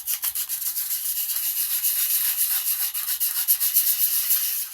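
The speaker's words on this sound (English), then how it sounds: "you take the two pieces of plastic and you sand them down real well" Two pieces of plastic sanded down by hand before a JB Weld repair, a steady close rasping rub that keeps up with rapid back-and-forth strokes, alone with no talk.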